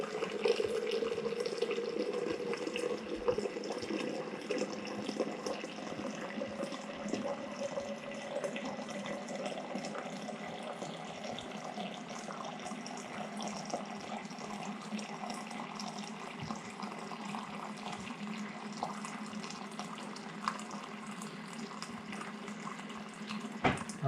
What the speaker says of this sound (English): then what I do is basically put some hot water into this.